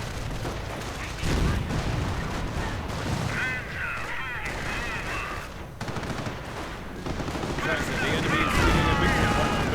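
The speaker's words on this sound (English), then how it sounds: "Grenades going off left and right." Video game battle in a World War II setting with grenades and bombs going off, dense overlapping explosions and gunfire rumbling throughout, under a commentator's voice and whistling or screaming effects.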